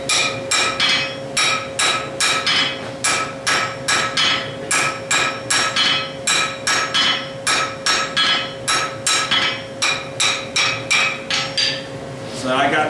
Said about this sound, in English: These little points that stick out, you can hammer down this way